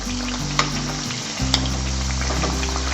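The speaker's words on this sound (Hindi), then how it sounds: "देखिए हमारी जो टिक्कियाँ है वो फ्राई हो रही हैं और देखिए कितनी करारी हो रही हैं ये।" Potato tikkis for a fasting recipe frying in oil, a strong steady sizzle with a couple of sharp pops, loud and close over a constant low hum, no voices.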